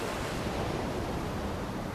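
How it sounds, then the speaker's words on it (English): Winter storm surf pounds the Seven Sisters chalk cliffs on the English coast, a dense, steady roar of breaking waves with no voices. "As winter draws near, the first storms roll in, battering the Seven Sisters."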